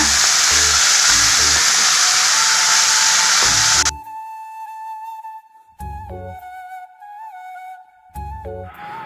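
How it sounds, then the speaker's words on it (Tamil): Curry leaves, coriander and tamarind sautéing in oil for cabbage chutney give a loud, dense sizzle for about four seconds. It then cuts off abruptly, leaving a sustained tonal ringing with a few short noisy bursts. "இந்த கருவேப்பிலை கொத்தமல்லி புளி எல்லாம் சேர்த்து வதக்கலாங்க இதுவும் நல்லா அந்த எண்ணெயிலே வதங்கட்டங்க"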